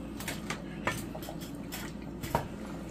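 Duck kaldereta with potatoes stirred in a cooking pot, with soft scraping and a couple of sharper metallic clinks from the utensil and lid over a steady low simmer; no talking.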